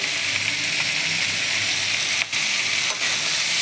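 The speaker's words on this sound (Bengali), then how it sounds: "পেঁয়াজ কলিগুলো ফুটছে," Onion stalks frying in a pan for a small-fish curry, a loud continuous close sizzle and spatter with a couple of brief stirring clicks, no talk.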